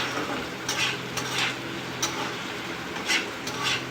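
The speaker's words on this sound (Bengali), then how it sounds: "তো পেঁয়াজগুলো দিয়ে এবার আমি খুব ভালোভাবে ভেজে নেব।" Finely chopped onions fried in a pan for a fish bharta, a low crackling sizzle broken by repeated light clinks and scrapes of a spoon being stirred, close by with no voices.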